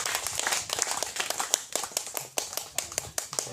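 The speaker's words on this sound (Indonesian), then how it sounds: "Kita berikan aplaus kepada Bapak ini." An audience applauding a speaker at a public discussion on political culture, a steady patter of many hands clapping in a hall, moderately loud and continuous for several seconds.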